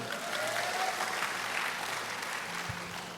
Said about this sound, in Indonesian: Berikan tepuk tangan lebih meriah lagi.